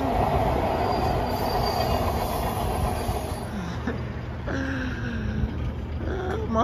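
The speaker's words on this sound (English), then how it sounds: "Oh, train." A train rolls past in an Atlanta street setting, a steady loud rumble and hiss with high metallic wheel squeals rising over it toward the end, fairly close and continuous.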